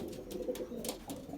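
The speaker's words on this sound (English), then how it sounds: "Looks like the ace pigeon has made it now." Belgian racing pigeons at the loft after a 40 km young-bird test race, with a steady low cooing murmur and a few brief high chirps over it, fairly close and continuous.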